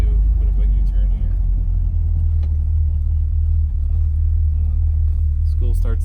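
A 1974 Plymouth Cuda with a 360 engine rumbles steadily through a slow U-turn, its low engine drone dominant and constant, with a voice briefly audible near the end.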